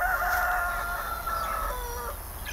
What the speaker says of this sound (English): we got three roosters right now in there, I think.